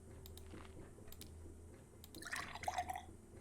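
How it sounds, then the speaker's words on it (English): Faint, irregular drips of water in the Fran Bow video game, a few soft plinks clustering near the end over a low steady hum, with no talk. "I'm gonna assume that means the water's slowing, that little sound."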